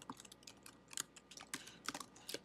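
Soft, quick keystrokes on a computer keyboard as code is entered, an irregular patter of individual clicks with small pauses, close and fairly quiet.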